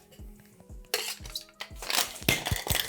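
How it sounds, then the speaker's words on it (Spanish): Cocktail shaker loaded with large ice cubes and marmalade for a Breakfast Martini, rattling and clattering in quick bursts after a few light clinks, growing steadily louder toward the end. "Agregamos hielo, par de rocas bien grandes y procedemos a agitar."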